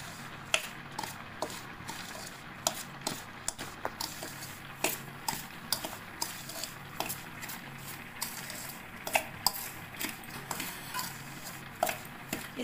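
Sugar being stirred into coriander prasad in a bowl, a series of light scraping clinks and soft taps from a spoon, fairly quiet and irregular.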